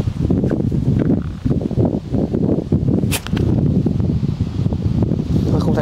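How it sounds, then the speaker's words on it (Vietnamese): Strong wind blows hard and constantly outdoors, a loud rushing gust with rustling, close to the microphone and alone without talk. "bây giờ có gió to quá"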